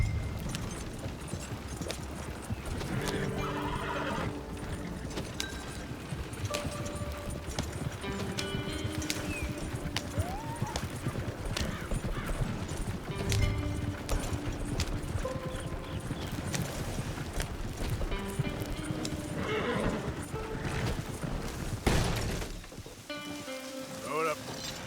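A horse in the Red Dead Redemption 2 video game clip-clops along at a steady rhythm amid rain, with an occasional whinny, while a voice speaks intermittently over the hoofbeats.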